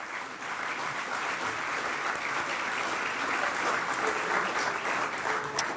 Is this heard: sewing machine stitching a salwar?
no